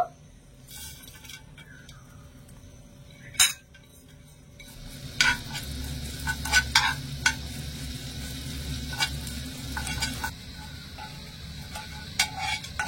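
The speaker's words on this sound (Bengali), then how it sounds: "এখানে আমি সবকিছু খুব সুন্দর করে মুচমুচে করে ভেজে নিয়েছি" Urad dal, chana dal, chili flakes and chopped ginger fry in a pan with a soft, steady sizzle. Sharp clinks and scrapes of a spoon against the pan cut in now and then.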